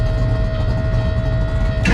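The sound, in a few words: scavenge pump returning turbo oil on drag car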